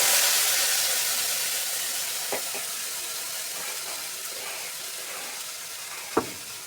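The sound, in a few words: masala gravy frying in a pan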